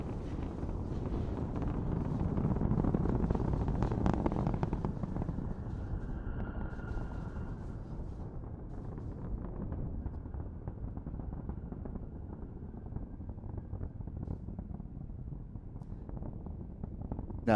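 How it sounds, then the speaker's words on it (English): Deep, continuous rumble of SpaceX Falcon 9 Merlin engines during a Starlink launch, heard from a distance as a broad low roar that swells early and then holds steadily, with wind buffeting the microphone. "We're hearing the rumble of the Merlin engines"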